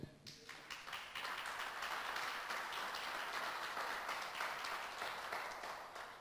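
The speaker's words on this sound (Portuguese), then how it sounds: "Aplauda ao Senhor." Church congregation clapping together in a worship service, a dense, even burst of applause that starts at once and carries on steadily for several seconds, fairly close and filling the room.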